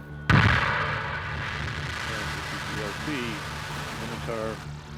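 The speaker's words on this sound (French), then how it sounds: "Orion, équipé de son Launch Abort System, va décoller pour la toute première fois." Orion capsule's launch abort system rocket ignites with a sudden sharp blast, followed by a sustained roaring rumble as it lifts off, while a narrator talks over it.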